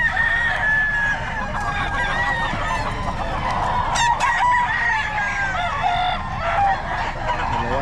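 Chickens cluck and a rooster crows repeatedly among a busy flock, with faint voices in the background, the crows rising and falling throughout.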